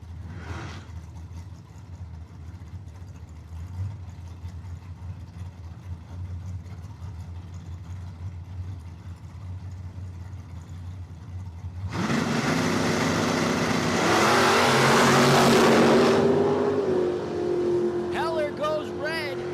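A Camaro and a Vega drag racing car idle at the starting line of a dragway, engines rumbling under a commentator's voice, then revs surge loudly and a high engine tone climbs before fading.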